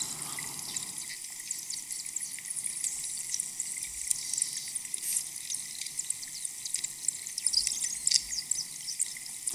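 Hydrophone recording of ancient air escaping from lumps of glacier ice drifting past: a dense, continuous crackle of fizzing pops and high chirping ticks, bird-like in places, steady throughout with faint low thumps underneath.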